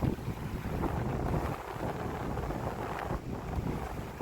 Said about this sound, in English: Wind builds every afternoon from the northwest, so probably should have gone with 2 reefs